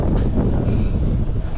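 Strong wind buffets a microphone on the open deck of a Carnival Mardi Gras cruise ship, a loud, continuous roar and rumble with no letup.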